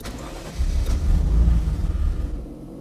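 A Ferrari F40 engine cranks on the starter with a rapid, loud chugging rumble for a couple of seconds, then cuts off without catching.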